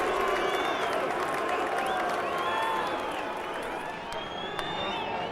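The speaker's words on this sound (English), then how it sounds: "More displeasure from the crowd." A boxing arena crowd at a heavyweight fight voices displeasure in a steady, loud wash of murmuring, jeers and scattered shouts that carries through the whole stretch without letting up.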